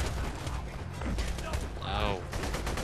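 Rapid bursts of gunfire in Borderlands 2 crackle through the clip, mixed with other game noises and a rising mechanical whine partway through.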